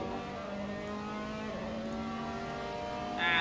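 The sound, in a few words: race car engine noise in racing video game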